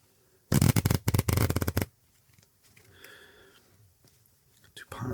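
Playing cards are shuffled in one loud, close, rapid riffle lasting just over a second, followed by quiet handling rustles and soft whispered speech in an ASMR setting.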